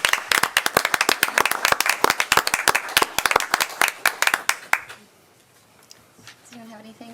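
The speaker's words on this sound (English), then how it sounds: "they're all to be applauded, in my opinion" Applause at a town board of commissioners meeting in Kill Devil Hills, many hands clapping briskly and close for several seconds, then fading out into a quiet room where a voice begins speaking.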